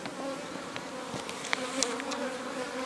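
Bees buzz around an opened old log hive, an agitated, long-established colony heard up close as a steady droning hum with a few sharper passes of individual insects near the listener.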